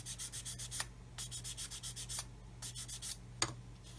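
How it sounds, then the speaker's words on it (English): A small sanding block scrubs a plastic 1/35 scale model kit part in quick rhythmic strokes that come in bursts with short pauses, close and fairly quiet, with no talking. "that needs to be sanded flat. It's got ejector pin marks on it. So once again, little sanding block to the ready."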